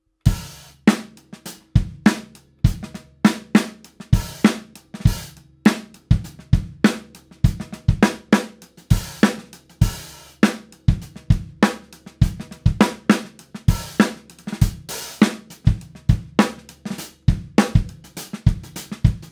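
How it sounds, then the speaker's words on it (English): A steady drum beat plays alone, punchy kick and snare hits with quieter ghost strokes filling between them in a tight repeating groove. "Let's add in ghost notes in the second bar."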